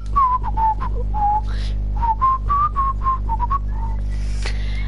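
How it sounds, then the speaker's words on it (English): A whistle in Fortnite sounds in a run of short, bright, warbling toots, with a few pauses between bursts, heard clearly over a low steady hum and no talk. "Oh, you just blow the whistle and they don't know you're there."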